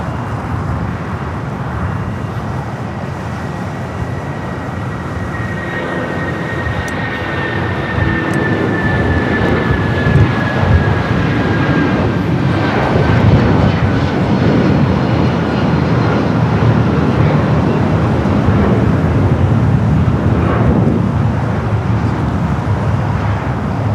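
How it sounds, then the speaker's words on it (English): A United Airlines Boeing 757 takes off from the south side at LAX, its steady jet roar building and holding loud for the full stretch, with a thin whining tone sliding across the noise and no voices. "Our next takeoff here on the south side, United Airlines flight 1700 heading to Newark at 757 at 200."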